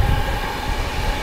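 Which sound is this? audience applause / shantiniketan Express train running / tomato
shantiniketan Express train running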